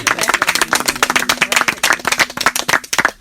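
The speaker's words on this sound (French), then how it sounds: "je pense qu'on peut les applaudir" Audience applause at a farm storytelling event in Trébry, France: dense, rhythmic hand clapping from a close crowd, steady and loud, tapering slightly at the end.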